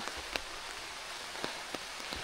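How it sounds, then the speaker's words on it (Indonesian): Rain falls steadily on a mountain hiking trail on Mount Slamet, a soft, even hiss broken by a few sharp, close drip taps, quiet and without voices. "Akhirnya sebelum pos 2 kita diguyur hujan."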